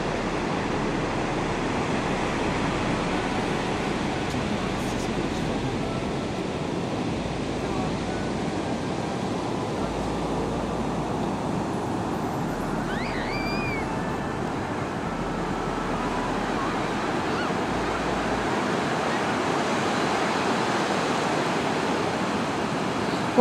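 Ocean waves and surf roll steadily at Piha beach in New Zealand, a continuous broadband wash with wind across the microphone and no talk.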